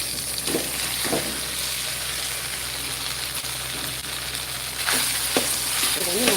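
Idli pieces stir-fried in a pan with dried red chillies, a soft continuous sizzle with occasional scraping strokes of a spoon, fairly quiet and close, with no speech.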